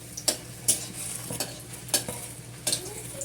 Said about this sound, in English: I will add them in the oil and stir them for not more than about 10 seconds